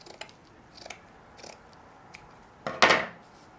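Scissors cut through material for a DIY fall wreath, a few faint snips and then one louder, close crunching cut near the end, with no talking.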